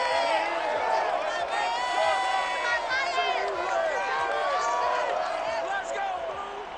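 Large stadium crowd filling Ford Field in Detroit during a Madden 22 football game, a steady dense roar of voices and cheers with scattered whoops, holding loud and continuous before easing slightly near the end.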